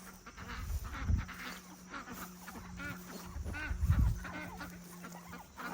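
Ducks in an outdoor farm pen at Polyface farm, with a few bursts of quacking and low thumps and rustles close by, set against steady outdoor background noise.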